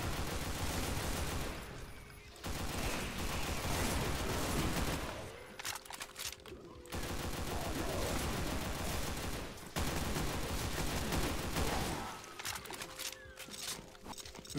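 Sustained rapid gunfire from a weapon in the video game Project Brutality DOOM, with loud dense bursts broken by short pauses and mechanical clicks, no talk over it.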